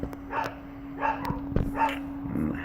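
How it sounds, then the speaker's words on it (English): Several dogs bark faintly in the background indoors, with a few muffled barks and yips spaced out under a steady electrical hum. "Those are my dogs barking in the background."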